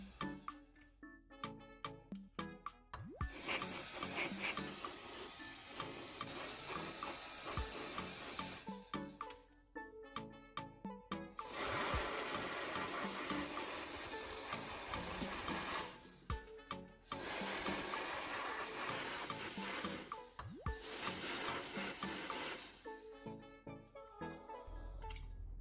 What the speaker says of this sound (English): Use a heat gun to dry the parts